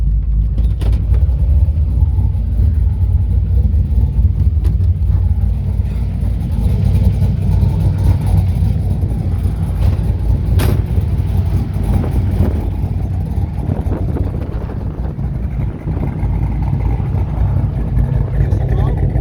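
A performance-built Chevrolet Camaro with an LT1 383 engine idles outdoors with a deep, steady rumble that swells slightly under throttle, with people talking nearby throughout.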